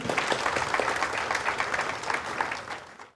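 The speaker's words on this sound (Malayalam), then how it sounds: "ഒരു നല്ല കൈയടിയോടുകൂടി" Dense, steady applause from an audience at the Kerala Vision Television Award 2024 poster launch, loud and sustained throughout before tailing off at the very end.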